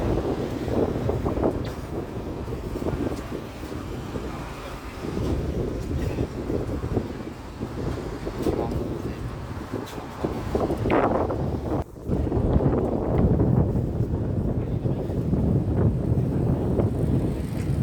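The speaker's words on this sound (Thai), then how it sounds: "ตอนนี้ลมแรงมาก ตอนแรกคิดว่าฝนจะตกมันไม่ตก" Strong wind buffets an outdoor roadside spot where fruit smoothies are sold in a capital city, a continuous rough roar of gusts that swells and dips throughout, loud and close to the microphone.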